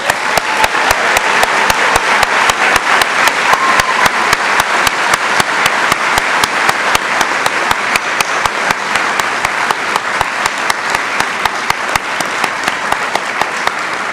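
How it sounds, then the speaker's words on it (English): An audience at a college of nursing white coat ceremony gives a long round of applause, a loud, sustained wash of many hands with one near clapper's strikes standing out in a steady, regular beat throughout. "let's have a big round of applause"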